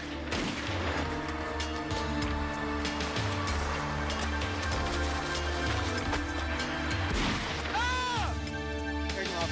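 Gunfire during a South Carolina police shootout between troopers and escaped convicts, with rapid repeated sharp shots and bangs layered over a loud, dense mix of engine noise and commotion, plus a wailing siren sweep near the end.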